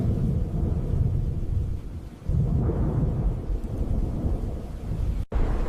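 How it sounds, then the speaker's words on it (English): Deep, continuous thunder rumbles close by as a storm approaches outdoors, swelling and ebbing in low, rolling waves with no voices over it. "Can you hear that rumbling? Yep, definitely thunder."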